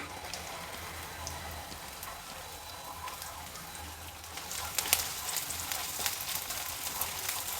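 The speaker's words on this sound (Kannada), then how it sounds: "ಚಿತ್ರಾನ್ನಕ್ಕೆ ಈರುಳ್ಳಿ ಹಾಕ್ತಾಯಿದ್ದೀನಿ" Onions frying in a pan for avalakki chitranna give a continuous crackling sizzle close by, growing a little busier and louder toward the end, with no talking.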